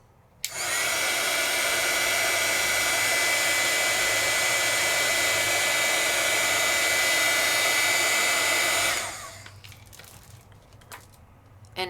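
A heat tool blows hot air for card embossing, a steady loud whooshing roar that holds for about eight seconds, then cuts off into quiet handling noises.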